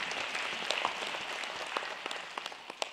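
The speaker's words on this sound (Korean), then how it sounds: "박수로 환대해 주시기 바랍니다." Audience applause at an integrity award ceremony and special lecture, a steady wash of many hands clapping with a few sharper claps standing out, moderately faint and continuous.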